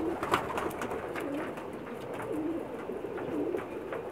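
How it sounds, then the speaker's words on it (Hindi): Pigeon cooing on a rooftop loft in Jeddah, Saudi Arabia, where Pakistani pigeons are kept, with repeated soft low coos at a steady rhythm close by over a constant background murmur. "बहुत खूबसूरत कबूतर है"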